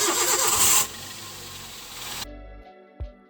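Toyota Yaris engine cranks and catches, then settles into a steady mid-pitched idle, with a loud burst of noise at the start and a couple of soft knocks near the end.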